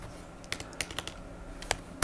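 Keys clack on a computer keyboard while an invoice is typed, a handful of quiet, uneven keystrokes close by in a still room.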